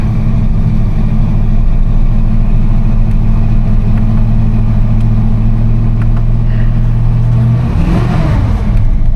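A 1986 Chevrolet C10's engine runs loudly and steadily near at hand, then gives one brief rev near the end before settling back.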